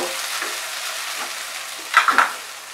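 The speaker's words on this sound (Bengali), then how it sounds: "দিয়ে ভালো করে মিশিয়ে দেব।" Prawn and banana flower curry being stirred in a pan, a soft steady sizzle with a few quick scraping clinks of the spoon against the pan near the end.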